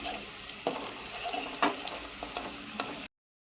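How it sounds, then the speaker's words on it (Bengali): Fish frying in a pan, a steady sizzle with bursts of crackling and spatter and a few stirring knocks, close and moderately loud, cutting off abruptly into silence near the end. "দেখো বন্ধুরা এখন হচ্ছে মাছ ভাজা"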